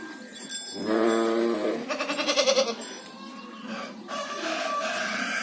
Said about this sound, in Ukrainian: Так, а тут ще три молодих кози.